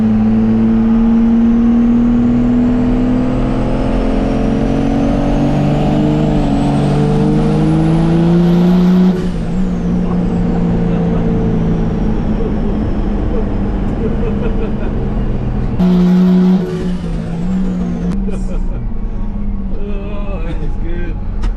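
First-generation truck engine with a new converter, revving hard from the cab with a rough, loping rumble, rising and falling through several long pulls, loud and close, with voices talking over it.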